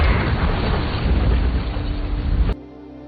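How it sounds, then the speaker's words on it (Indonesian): A loud explosion roars in a film action scene, a dense rumbling blast sustained for about two and a half seconds before cutting off sharply to quieter background. "Tiba-tiba, sebuah ledakan terjadi."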